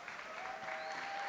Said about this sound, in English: Let's give a big round of applause for Mike MacIntyre.